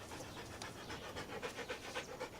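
A dog pants close by, in quick, soft, rhythmic breaths that repeat steadily throughout.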